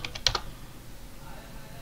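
A few quick clicks of keys on a computer keyboard, tapped in a short burst near the start and then stopping, close and fairly clear over faint room hiss, while configuring an Ubuntu 20.04.1 router.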